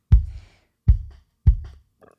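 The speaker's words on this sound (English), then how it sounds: "We got the outside kick drum that gives you the boom." Solo track from a microphone outside a kick drum in a rock mix: three deep, booming thuds with quick decay, spaced unevenly, each followed by a short tail, then a faint softer hit at the end.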